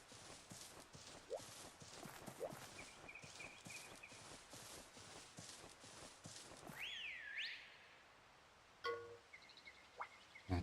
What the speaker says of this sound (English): That's a whistle.